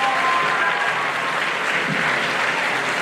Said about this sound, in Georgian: ეხლა ბევრი აპლოდისმენტები არ მოხდეს ქალბატონს